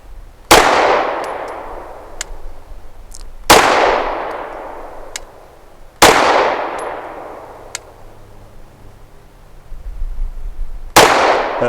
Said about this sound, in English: 5 shots from 7 yards using that Browning 115 grain